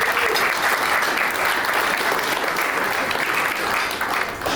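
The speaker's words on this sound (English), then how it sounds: "a round of applause" A crowd claps steadily in sustained applause, dense and even, holding at a fairly loud level for several seconds.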